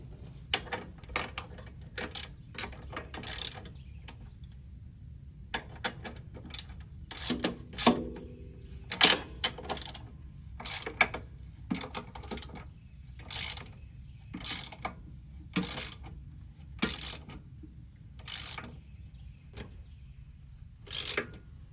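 A ratchet wrench clicks in repeated short bursts as the brake caliper mount bolts are tightened on a 2001 Polaris Xplorer 250 ATV. The clicking is close and crisp, with no talk.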